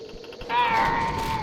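Cats meowing amid a cat-and-dog snowstorm disaster in a Roblox game, a sustained wavering meow rising after a brief quieter stretch and holding loud to the end over game noise.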